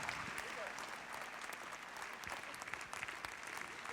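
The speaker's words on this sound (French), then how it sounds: "Et puisque vous êtes en train de les applaudir" Audience applause for the riders at a CSI 5* show jumping event, Saut Hermès 2022, steady dense clapping from a large crowd filling the arena throughout.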